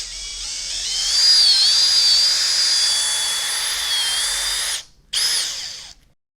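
A power drill with a mixing paddle churns two-part Kerapoxy epoxy grout, a loud continuous high-pitched whir whose pitch wavers slightly, cutting out briefly near the end before a short final burst and then silence.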